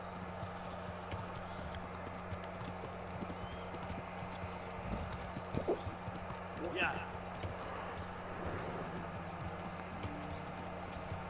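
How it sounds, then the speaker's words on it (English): Hooves clip-clop on a road in the medieval video game Kingdom Come Deliverance, a rhythmic plodding under a steady background hum, with a brief whinny midway. "Wait, was that Sir Ratzig's horse or someone else's horse?"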